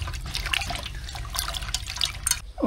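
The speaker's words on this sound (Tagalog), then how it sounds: "Ito, babad natin sa tubig." Pechay greens being soaked in a basin of water, with soft continuous sloshing, dripping and splashing close by, fairly quiet and with no talking.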